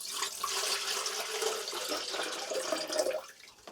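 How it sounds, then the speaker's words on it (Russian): Tap water runs and splashes into an electric kettle being filled after a button repair, a soft, close, hissing gush with small gurgling changes in pitch as the vessel fills. "Теперь осталось налить в чайник воду"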